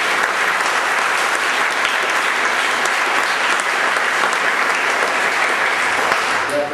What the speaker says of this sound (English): So once again, round of applause for our captains.